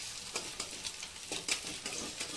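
Eggs for egg bhurji sizzle and fry in a hot pan on full flame, a steady crackling hiss broken by soft scraping stir strokes, close and moderately loud with no talking.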